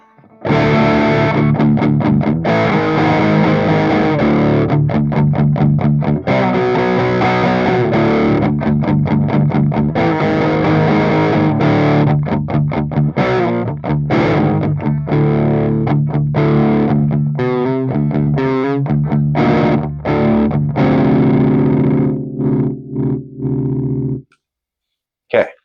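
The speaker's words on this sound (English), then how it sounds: "So because we're using a clean amp, we're just going to be creating some extra breakup." Electric guitar played through an overdrive pedal into a clean amp, giving a gritty, broken-up tone with strummed chords and choppy rhythmic stops, loud and continuous for about 24 seconds before fading out.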